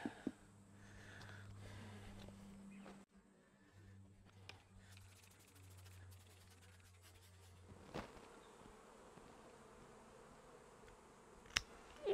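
A large swarm of honeybees hums in a low, steady drone, faint and continuous, with occasional rustles and knocks nearby.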